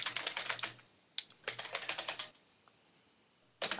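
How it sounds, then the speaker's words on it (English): Bursts of rapid key clatter from a vintage mechanical keyboard, close and crisp, in three runs separated by short pauses, with no voices. "Oh, that's right. It's mechanical keyboard,"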